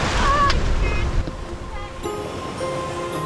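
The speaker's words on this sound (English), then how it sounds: "Not so excited for the sudden building waves." Sea waves building around a boat crossing the North Sea near an oil platform, a steady rushing wash with wind buffeting the microphone, loud and continuous.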